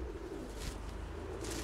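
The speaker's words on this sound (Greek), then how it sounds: "Και πέσαμε και σε καλά περιστέρια" Pigeons coo softly at a rooftop pigeon-flying club in Drapetsona, Piraeus, faint low murmurs buried under steady outdoor noise.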